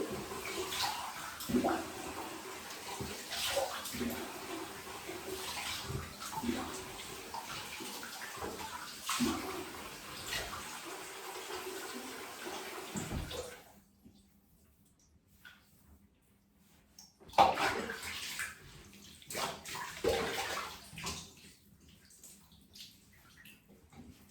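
Water runs and splashes steadily as a girl's curly hair is wetted, a continuous bathroom wash sound that stops partway and then resumes.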